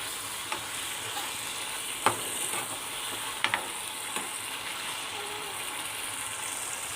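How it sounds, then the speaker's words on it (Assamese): A home-style Assamese fish curry sizzles in a pan after hot water is added and is stirred. A constant bubbling hiss runs throughout, broken by a few sharp clinks of the spoon against the pan. "অলপ লৰাই চৰাই দি দিব লাগিব।"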